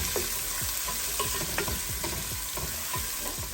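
Green chillies sauté with onion in a hot pan, a steady close sizzle broken by repeated scraping stirs, with no voices.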